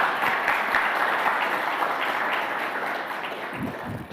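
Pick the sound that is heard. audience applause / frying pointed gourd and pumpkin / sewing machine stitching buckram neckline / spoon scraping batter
audience applause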